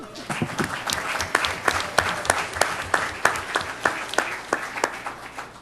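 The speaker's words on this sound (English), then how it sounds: "please join me in a round of applause wishing our county executive a happy birthday, Cheryl D'Onofo." A county legislature meeting room breaks into applause for the county executive's birthday: a modest crowd claps in steady, fairly even rhythm, individual hand claps distinct and close, lasting several seconds.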